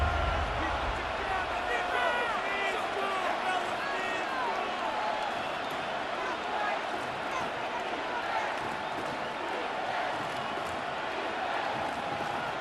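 Stadium crowd roar from a Madden NFL 26 simulation of a Giants vs. Cowboys rivalry game, a dense, steady wash of loud cheering and chatter with no break, carrying under the game's broadcast sound.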